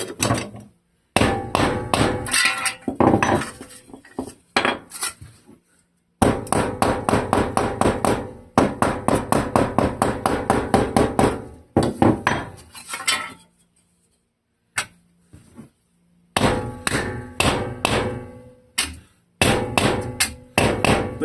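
A couple of hammers strike a block of wood in rapid runs of sharp, close blows, and the bursts are split by short silent pauses.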